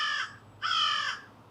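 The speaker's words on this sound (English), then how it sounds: "Even the crows are in disagreement" Crows caw twice outdoors near a backyard barbecue pit, two loud harsh calls with a short gap between them, fairly close and with no talk.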